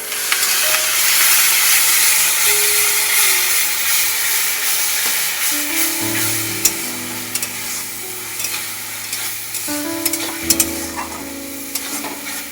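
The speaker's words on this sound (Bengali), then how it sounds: "এবারে সমস্ত কিছু উপকরণ ভালো করে কষিয়ে নেব।" Tomato and green chilli paste sautéed with spices in a pan for a Bengali pabda fish curry, a steady loud sizzle with repeated stirring scrapes, easing slightly in the second half.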